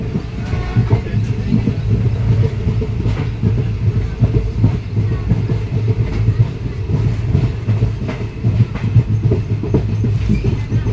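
Passenger train on the Mumbai to Latur route rolling along the rails, a loud continuous low rumble with rhythmic clickety-clack from the wheels, heard from inside the carriage.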